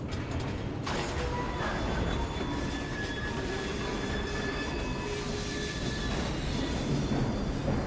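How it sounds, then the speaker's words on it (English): Train in the video game Assassin's Creed Syndicate, a steady rolling rumble with mechanical clanks and faint metallic squeals, continuous and fairly loud throughout. "We fixed up the train for you."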